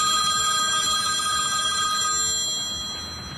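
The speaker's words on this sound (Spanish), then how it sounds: "Y de golpe suena el teléfono de Nico" A telephone rings with a steady, continuous electronic bell tone that fills the clip and fades slightly at the end, with no voices over it.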